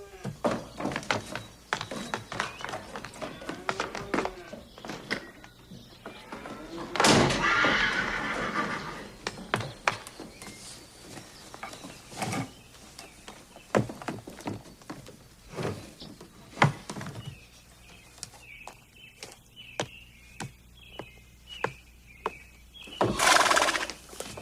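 A horse whinnies repeatedly across the stretch, the neighs mixed with hoof clip-clops, knocks and thuds from a barn door. One louder outburst comes near the middle and another near the end, with no talking.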